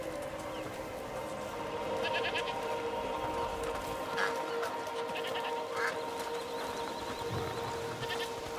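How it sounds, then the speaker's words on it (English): A goat bleats a few times over a dense, steady soundscape in the video game A Plague Tale: Requiem, the calls short and mid-distance amid constant background rumble. "Can't wait to hear you bleat into battle."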